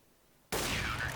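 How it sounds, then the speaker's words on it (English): A single AWP sniper rifle shot in a competitive Counter-Strike-style match cracks out suddenly, loud and sustained, after a quiet moment, with no talking over it. "it's Tuinu with the AWP shot"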